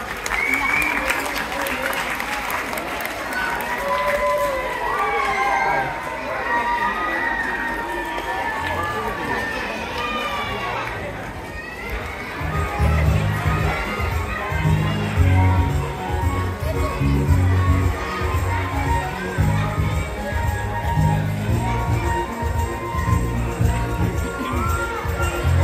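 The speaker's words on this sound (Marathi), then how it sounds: "टाळ्या वाजवून स्वागत करूया दुसऱ्या पालनाट्याचं." Audience at a Marathi children's stage play applauds and cheers to welcome the next performance. Voices and shouts come first, then dense, steady clapping swells and fills the second half.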